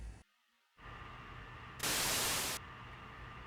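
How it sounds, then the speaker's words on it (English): Radio static hissing from a telephone handset in a video game, a steady faint noise that drops briefly, then swells into a louder burst of white noise before settling back. "Radio noise?"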